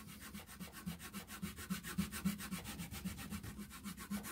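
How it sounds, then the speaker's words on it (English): A small hacksaw cuts crossways against the grain of thin wood for an RC truck bed, making a fast, even back-and-forth rasping rhythm that is close and steady throughout. "A little hacksaw works great for this."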